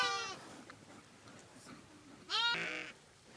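Sheep bleat near a wool-shearing spot, two clear, close bleats, one at the start and a longer, louder one near the end, separated by a quiet stretch of low background noise.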